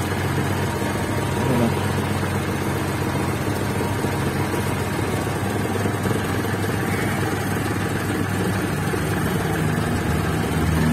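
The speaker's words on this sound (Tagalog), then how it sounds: "napakatahimik ng andar ng ating makina" A multicab engine with a newly replaced alternator runs quietly at a steady idle, a continuous low mechanical hum with an even broadband wash and no voices.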